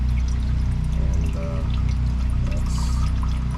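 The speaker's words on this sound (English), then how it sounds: "And I'm draining the fluid." Coolant drains steadily from a Dodge Challenger during a water pump change, a continuous close trickling pour over a low droning background hum.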